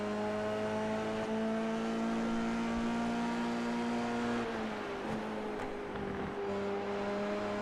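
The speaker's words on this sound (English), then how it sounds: "Formula 3 cars very, very quick indeed." Formula 3 race cars at Road Atlanta in a racing video game, engines whining at high revs in a sustained tone that drops with a gear change midway, then continues at a steadier pitch.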